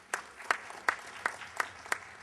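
Sparse applause from a panel event audience for a track sponsor, a handful of widely spaced claps at a steady slow rhythm, fairly faint in a quiet room.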